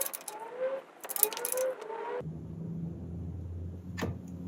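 A wrench clicks and ratchets in short metallic bursts while snugging belt tensioner bolts on a 1998–2002 Corolla 1.8L engine, then gives way to a low steady hum with one faint tap.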